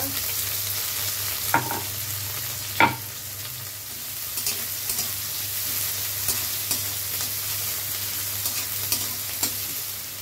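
Panch phoron with chopped onion and green chili frying in hot oil for a spinach curry, a steady close sizzle throughout with a few sharp stirring taps.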